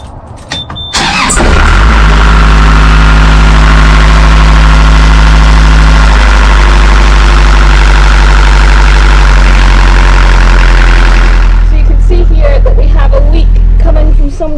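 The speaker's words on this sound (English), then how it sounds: "we're just going to run the engine up" An engine is run up with its coolant cap left open, in a setup that includes a calorifier. After a brief quiet moment it catches and settles into a loud, steady drone with a deep low hum that holds for over ten seconds before cutting off.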